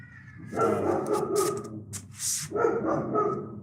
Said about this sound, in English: I hate that dog. I can hear it right now.